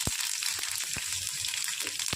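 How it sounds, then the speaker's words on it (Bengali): Green chilies and black mustard seeds sizzle steadily in hot oil, a constant hiss broken by a few sharp crackling pops, with no talking. "তেলটা দিয়ে দিয়েছি, তেলটা গরম হয়ে গেছে, দিয়ে দিল কাঁচা লঙ্কা দিয়ে দিলাম"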